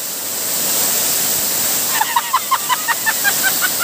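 Encanto Falls in Libmanan pours steadily in a broad rushing roar, loud and close, with a voice speaking briefly over the water in the second half.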